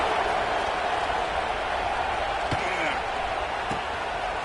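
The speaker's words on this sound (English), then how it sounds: "this crowd is buzzing after that last score" Football stadium crowd buzzing after a touchdown, a steady broad roar of many voices filling the whole stretch, with a couple of faint thumps and a voice talking over it.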